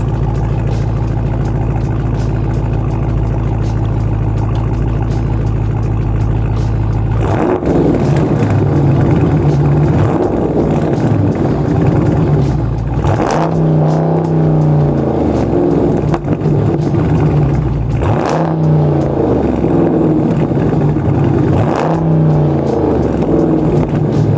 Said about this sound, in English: Here, I'll set you down and throw you a rev.